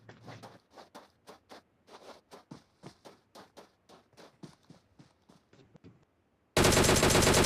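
Rapid bursts of gunfire in a shooting video game, a steady run of sharp repeated shots that ends in a loud burst of noise.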